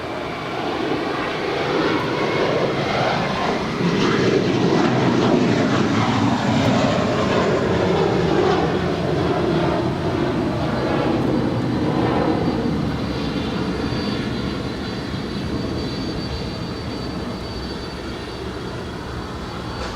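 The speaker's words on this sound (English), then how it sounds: "LATAM Airlines Flight 2476 coming in from Lima, Peru in the 767-300ER." A LATAM Airlines Boeing 767-300ER arriving from Lima lands at Los Angeles International Airport, its jet engines producing a loud, broad roar that swells and then slowly fades, with no voices.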